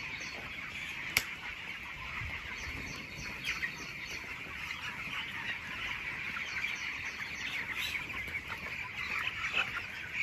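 On a broiler poultry farm, chickens and a rooster cluck faintly in a continuous dense chorus inside the shed, with no talking.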